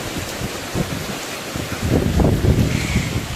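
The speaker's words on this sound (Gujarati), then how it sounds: "વરસાદ આવે છે અત્યારે જોરદાર" Heavy rain roars in a dense, rushing wash during a Ganesh immersion in Rajkot, swelling louder toward the end with low gusty rumbles.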